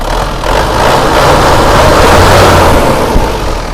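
A 2001 Dragon's engine runs loud and close, its roar swelling as it revs up and then easing back slightly.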